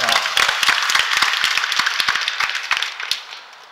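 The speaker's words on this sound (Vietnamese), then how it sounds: "Quý bạn chị em cho cha một tràng pháo tay." A church congregation at a Vietnamese parish feast of Our Lady of the Rosary applauds a priest, a close, dense round of clapping that gradually fades out over a few seconds.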